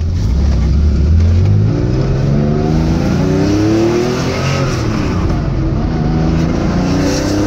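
Porsche-era CIS fuel-injected car engine with a recently rebuilt motor revving and dropping through gear downshifts, loud and close, pitch swooping up with each blip and settling, no talk.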